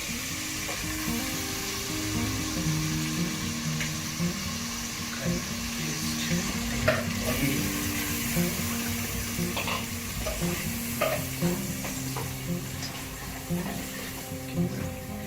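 Green chilli and coriander paste fries with yogurt-marinated mutton over medium flame for Andhra-style chilli mutton, a steady sizzle with repeated stirring scrapes and clinks throughout.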